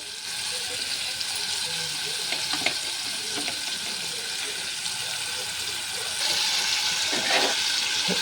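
Chopped raw mango tipped into a hot pan with spices and stirred, giving a steady sizzle that grows louder near the end, with soft scraping through it.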